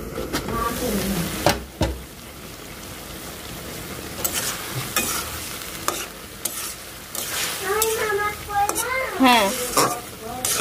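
Spices being sautéed and stirred in a pan as the base for a fish curry, giving a steady frying sizzle with scraping stir strokes, and someone speaking briefly over it.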